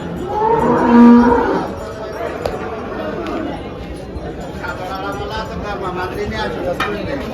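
A cow gives a loud, drawn-out moo near the start at a cattle market in Dhule selling HF and Jersey cows, then a busy crowd of voices and market chatter carries on underneath.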